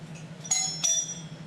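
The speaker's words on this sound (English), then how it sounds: "There's a ring at the bell." Two bright doorbell rings in an indoor stage-play setting, each a sharp chime with a lingering metallic ring, the second following shortly after the first, heard clearly over a low steady hum.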